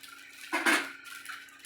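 Aval upma with coriander and grated coconut being stirred in a pan, a brief soft scrape and clink of a spoon against the pan near the middle, otherwise quiet.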